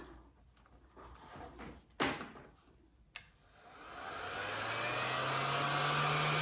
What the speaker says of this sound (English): I bring in my heat gun. I put it on a metal tray rather than that rubber one, and I just give it a quick heat up.